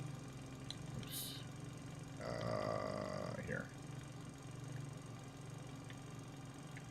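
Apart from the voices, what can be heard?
aircraft engines starting up, video game Microsoft Flight Simulator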